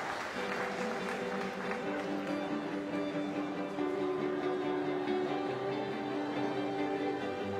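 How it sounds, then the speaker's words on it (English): Arena audience applauding swimming medal winners at the 2015 IPC Swimming World Championships in Glasgow, a steady wash of clapping from a large crowd, continuous and even throughout, with a sustained tone ringing underneath. "a round of applause for your medal winners"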